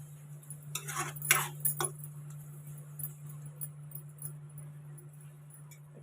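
Soaked chana dal is stirred in a cooking pan with a cluster of metal spoon scrapes and clinks near the start, followed by a quieter gentle sizzle and a low steady hum.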